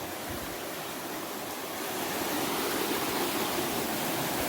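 A river flows in a steady, moderately loud wash of broadband rushing water, with nothing else over it, and swells slightly partway through.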